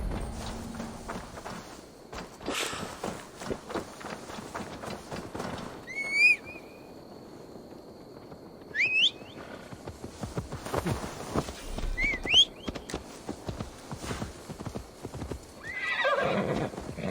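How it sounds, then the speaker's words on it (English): Hooves clip-clop steadily on a hard surface in Assassin's Creed Valhalla while a horse neighs and whinnies several times, with a snort near the end. "Now to deliver Magni his horse."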